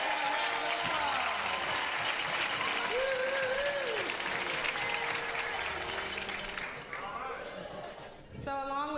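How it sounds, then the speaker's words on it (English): A dance-event crowd at a swing dance competition applauds loudly, a thick steady wash of clapping with whoops and cheering voices, fading somewhat toward the end as other sounds take over. "let's get a round of applause"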